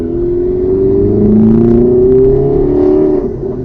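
A steady engine drone fills the cabin of a 2007 Opel Corsa OPC with a 1.6-litre turbo four-cylinder and emptied rear, low, loud and resonant, rising slightly in pitch as the car accelerates.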